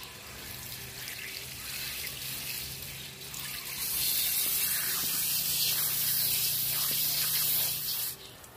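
Water sprays and hisses from a capped PC water pipe under pressure, starting as a soft trickle and swelling into a loud, bright spray before cutting off near the end.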